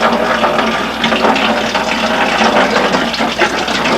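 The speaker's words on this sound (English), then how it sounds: "That's the water that's just in the line that's between us." Water rushes steadily out of an opened line in a park water system. The hiss is loud and continuous at close range, flowing without a break for the whole stretch, with no talking.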